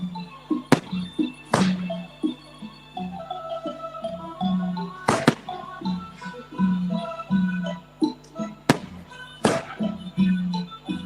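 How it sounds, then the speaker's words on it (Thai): Star-burst fireworks launched into the sky at a Thai Buddhist temple ceremony, giving several sharp, loud cracks at irregular intervals over a steady background murmur and low hum. "ตอนนี้พลุดาวกระจายนะครับได้ยิงขึ้นสู่ท้องฟ้านะครับ"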